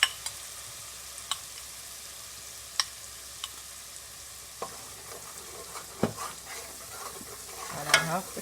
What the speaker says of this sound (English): I'm going to let this fry.